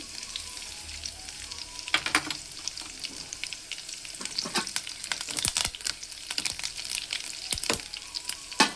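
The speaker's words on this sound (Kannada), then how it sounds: "ಚಟಪಟ ಚಟಪಟ ಅನ್ನುತ್ತೆ ನೋಡಿ" Mustard seeds, cumin and curry leaves crackle in hot oil for a Muslim-style wedding dalcha tempering, a quiet hiss punctuated by dense bursts of sharp pops that grow busier toward the end.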